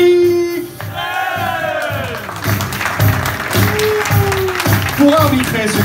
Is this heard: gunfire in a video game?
no